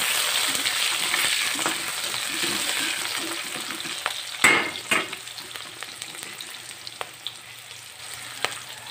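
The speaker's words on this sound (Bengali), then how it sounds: "তারপরে দিলাম কিছুটা জলপাই দিয়ে একটু নাড়াচাড়া দিলাম।" Olives sizzle and fry steadily in a pan while being stirred, with a few sharp scrapes and clinks of the utensil against the pan, close and continuous with no talk.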